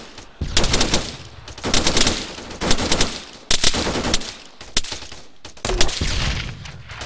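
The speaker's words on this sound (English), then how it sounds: "I'm gonna see if I can shoot another two or three over there." Video game gunfire: loud, rapid machine-gun bursts and single shots in repeated volleys, dense and continuous, close and dominant, with no talk.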